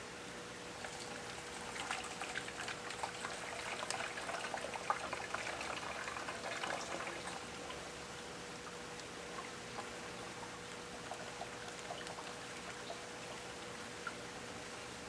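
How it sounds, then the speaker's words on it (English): Watery pouring and splashing as a nematode and gel mixture is tipped through a strainer to separate the worms, a quiet, steady trickle that swells for several seconds and then thins out, with no voices. "we're going to pour our nematodes through this strainer"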